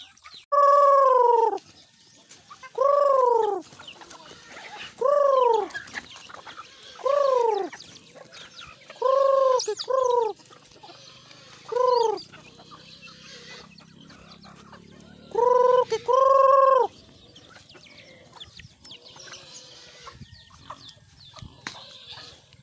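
Chickens at feeding time give a string of loud, drawn-out calls, about nine in all, spaced a couple of seconds apart over softer pecking and background noise.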